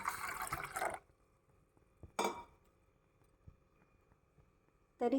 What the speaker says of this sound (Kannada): ಆನಂತರ ಒಂದು ಬೌಲ್ನಲ್ಲಿ 100 ml ನೀರನ್ನು ಹಾಕುತ್ತಿದ್ದೇನೆ